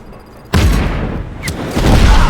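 A grenade blows up in the video game Just Cause 3, a sudden loud boom followed by rumbling debris and a second burst, with no talk over it.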